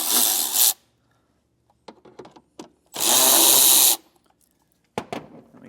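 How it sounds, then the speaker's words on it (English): A power drill fitted with a T20 Torx bit backs out screws from a hidden hitch receiver threshold, two loud sustained whirring bursts roughly a second each, separated by quiet clicks and handling taps, with a brief short burst at the end. "those are all going to require a T20 Torx bit. And we'll remove each one of those."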